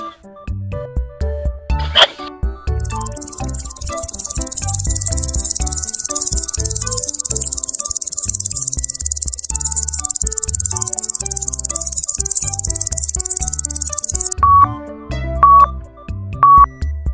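A grasshopper's shrill, steady chirring buzz runs continuously for about eleven seconds, loud and close, bracketed by a few short electronic tones and clicks at the start and end.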